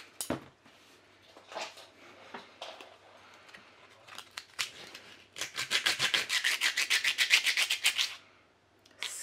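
A cord is scuffed and sanded to make it look worn and tattered, heard as scattered scraping strokes that build into a steady run of quick, rhythmic rubbing close by.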